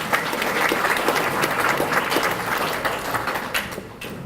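Crowd at an annual memorial banquet gives a round of applause, many hands clapping in a steady, fairly loud burst that tapers slightly toward the end.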